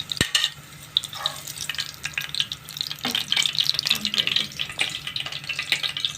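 Chicken kababs fry in hot oil, giving a steady crackling sizzle with bursts of spattering throughout, close and fairly loud, with no voices.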